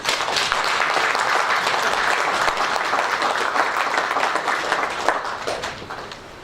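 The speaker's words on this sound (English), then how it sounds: "I would suggest that we give them a very big round of applause." Audience members at a mining-industry donation ceremony give a big round of applause, a loud, sustained burst of clapping that holds steady across the whole stretch with no speech on top.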